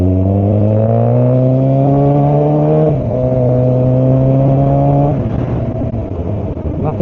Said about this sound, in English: when you've got a loud motorcycle